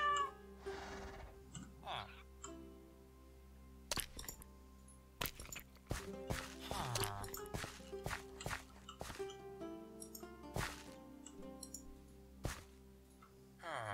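Cat meows inside the Minecraft game, a few rising and falling mews standing out amid clicky game sounds and a steady background hum, with someone talking softly over parts of it.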